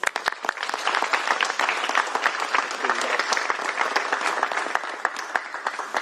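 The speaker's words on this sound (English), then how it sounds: "I'd like to give a round of applause for my student" An audience at a governor's press conference claps for a student speaker, a crisp, close burst of many hands applauding steadily at full strength for the whole stretch.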